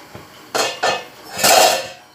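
A metal pot lid is lifted off tomato soup simmering on a stove, giving a few close metallic clanks and scrapes over about two seconds with no talk.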